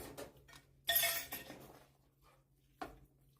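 Fish being mixed into a cooking pot with a utensil: a few sharp metallic clinks and scrapes, with one louder clatter near the start and another toward the end, separated by quiet gaps.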